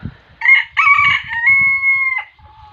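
A bantam rooster crows nearby, a loud, drawn-out call that holds a long high note before trailing off, with faint clucking underneath.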